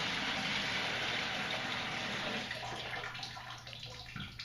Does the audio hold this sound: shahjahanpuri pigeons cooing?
no